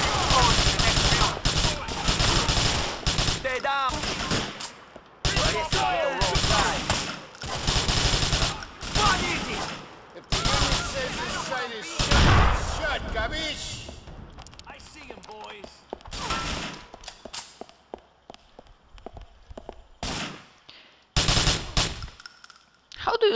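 Gunfire in Grand Theft Auto IV comes in dense bursts that repeat through most of the stretch and cut off in places, with voices talking over and between the shots.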